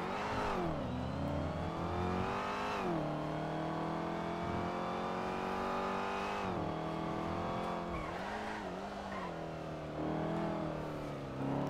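A car engine in the video game GTA 5 revs hard and loud, its pitch climbing in several repeated surges with brief drops between, accompanied by faint tire squeal, with no talking.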